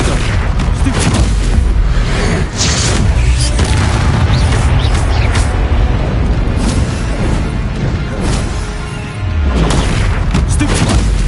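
Repeated booming blasts from the Confringo fire spell in the Hogwarts Legacy video game, loud and dense, overlapping in a continuous barrage of explosions with no clear pauses.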